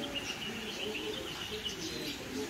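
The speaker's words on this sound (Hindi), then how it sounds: "यहाँ पे देखो भाई तोता जो है ना कुछ खा रहा है, एंजॉय कर रहा है।" Birds chirp and tweet continuously at moderate volume in an aviary at a strawberry farm in Taif, where a parrot is feeding among other birds, with a steady chorus of calls and no talking.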